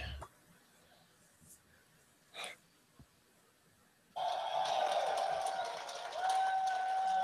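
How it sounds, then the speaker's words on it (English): A crowd at a live Tesla Model 3 event breaks into loud, sustained cheering that bursts in after a few seconds of near-quiet with faint coughs and taps, then holds steady and close to the end. "I hear wild cheering."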